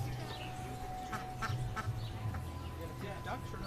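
Ducks quack near a group of people at an outdoor family wedding party in California, short nasal calls popping up repeatedly over a low background hum, with voices murmuring in the background.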